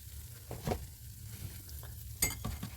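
Yeast pancakes fry in oil with a soft low sizzle, broken by a few brief clinks and scrapes of a utensil near the pan, close and fairly quiet with no speech.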